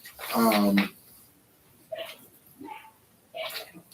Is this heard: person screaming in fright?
no